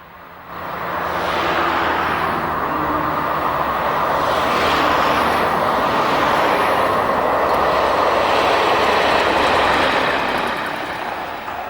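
A British Rail diesel multiple unit from Chester runs along the North Wales coast, a steady loud rumbling roar that swells in as it nears, holds, and eases away at the end.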